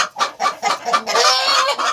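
Repeated short turkey clucks in quick succession, fairly close and loud, blending into a steadier burst of clucking calls toward the end.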